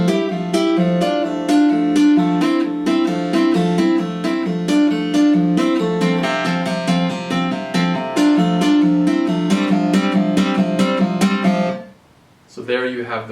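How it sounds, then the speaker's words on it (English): A steady, bright run of plucked acoustic guitar notes with quick hammered and pulled-off figures over a repeating bass pattern, ending abruptly, from a solo acoustic guitar piece. "So you're going to have pull-offs with all of these."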